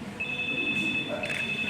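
A telephone rings indoors with a steady electronic tone that rises partway through, and faint voices sit under the ring.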